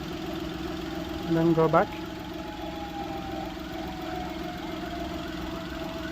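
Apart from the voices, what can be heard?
car engine idling after starting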